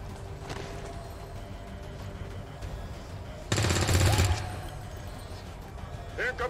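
A short burst of rapid gunfire erupts in a sci-fi shooter game against aliens and mind-controlled dead, loud and dense for about a second, with faint game sounds and ambience before and after.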